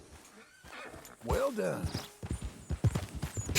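Horse neighing and hoofbeats in the Western video game Red Dead Redemption II, a loud close whinny followed by a string of clip-clopping hooves, with someone speaking briefly near the end.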